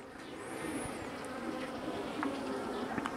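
Bees buzz steadily around an open wooden hive box, a dense continuous hum close by with a few nearer passes of individual bees, and no talking.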